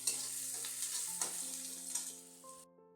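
Sliced onions fry in hot oil in a pan, giving a steady bright sizzling hiss that is occasionally stirred. The sound is fairly close and continuous, with soft background music and no voices, before cutting off near the end.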